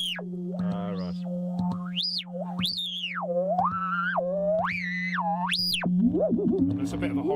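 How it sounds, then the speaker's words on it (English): A synthesizer oscillator swept by hand gestures, its pitch gliding up and down in wide wailing swoops over a steady low drone, fairly loud and continuous throughout. "So if I just get a normal oscillator."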